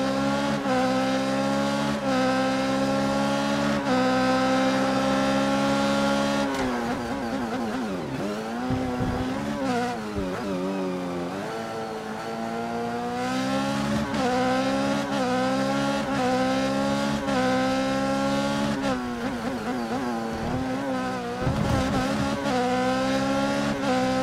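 An F1 race car in the F1 2014 video game laps the Montreal circuit in practice, its high engine note rising and falling through upshifts and braking, with brief tyre squeal, loud and close throughout.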